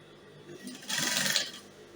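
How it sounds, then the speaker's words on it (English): A sewing machine runs a straight stitch along a skirt lining in a brief, fairly quiet whirring burst of about half a second, with soft handling sounds before it. "So I'm just going to run a straight stitch."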